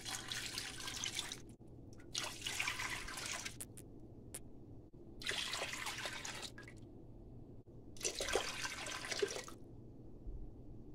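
Vegetable broth is poured into a big pot in several separate splashing pours with pauses between them, faint and close, with no talk.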